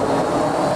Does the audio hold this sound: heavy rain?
no